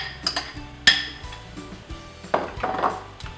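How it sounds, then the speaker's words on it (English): Tomatoes going into caramelized onions in a pot for an Indian chicken curry, heard as a string of metallic clinks and knocks of a utensil against the pot with a brief soft sizzle, close and without talk. "So here goes the tomatoes inside the onions."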